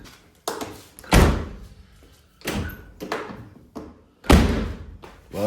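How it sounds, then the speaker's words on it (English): On a classic car, a door is shut repeatedly with loud, close thumps. Between the main slams come a few lighter knocks and latch clicks. No one speaks. "Well, at least now it closes."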